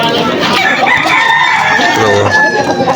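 A rooster crows at a Malolos pet market amid a busy, noisy crowd, its call rising over steady background chatter and other fowl sounds.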